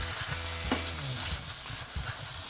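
Rice and shrimp are stirred in a pot over a continuous sizzle, with soft, irregular scrapes and knocks of the utensil close by.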